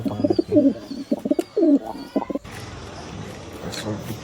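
Domestic pigeons at a home loft give a few close, throaty coos in quick succession, then fall quiet under a wash of steady background noise.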